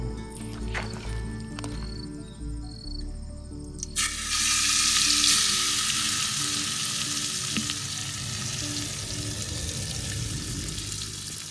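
Onions for Champaran-style chicken sizzle and fry in a clay pot outdoors by a riverside, a loud continuous hiss rising abruptly after a few seconds of clinking and handling, then staying strong to the end.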